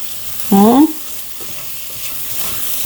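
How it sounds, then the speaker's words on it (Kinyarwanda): Rice stirred in a hot frying pan gives a steady sizzle with scraping stirs, close and continuous, with a brief tonal squeak partway through. "nako ndavanga byose neza"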